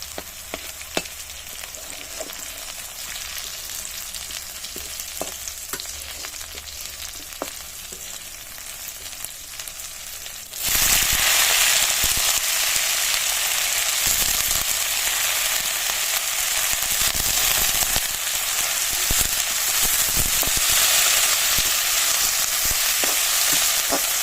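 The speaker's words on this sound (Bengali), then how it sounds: "তেলের মধ্যে পেঁয়াজ, রসুন, ঝাল সুন্দর করে ভেজে নিয়ে এর মধ্যে গোটা কয়েকটা জিরিও দিয়ে দিলাম।" Onion, garlic, chili and cumin seeds fry in hot oil with a low crackle at first. The sizzle then jumps to a loud, continuous hiss that stays strong to the end.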